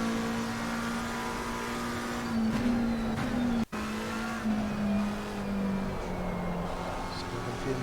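A race car in the Assetto Corsa Competizione racing game, with a sustained engine tone that rises and falls through gear changes and brief tire noise, heard alone with no talk.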